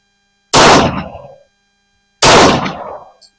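Two loud, sharp gunshots from a 1911 pistol firing .45 ACP rounds, spaced under two seconds apart, each a close, cracking blast with a short echoing tail.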